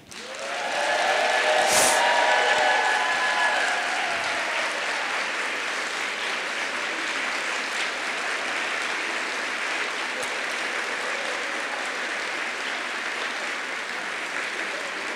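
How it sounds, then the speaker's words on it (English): Audience applause fills a hall after a thank-you during an address, starting loud and dense, then settling into a long steady ovation of many hands clapping with faint cheering at the start. "he deserves a huge round of applause"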